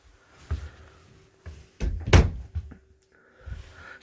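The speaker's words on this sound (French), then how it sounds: "on a 2 portes style grange qui viennent se fermer" A pair of barn-style interior doors in a 2022 Sabre Cobalt 36BHQ RV swinging shut, giving a few soft thumps and one louder knock, close by with no voices.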